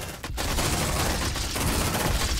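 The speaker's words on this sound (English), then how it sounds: "Suppressive fire." Sustained suppressive gunfire rattles nonstop in the sci-fi game Aliens: Dark Descent, a loud dense barrage of automatic shots filling the whole stretch.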